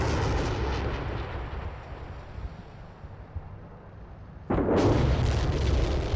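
In a tank combat video game, a high-explosive artillery shell bursts on a tank: a sudden loud blast cuts in after a stretch of low rumbling background, followed by a sustained roaring tail.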